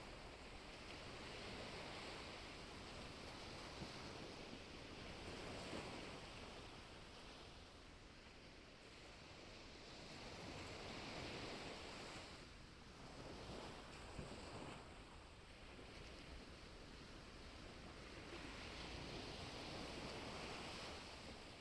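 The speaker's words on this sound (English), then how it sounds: "the peaceful sound of the waves washing to shore" Ocean waves wash steadily onto a beach shore with a continuous broadband surf roar, gently swelling and easing, with some wind noise over the microphone and no voices.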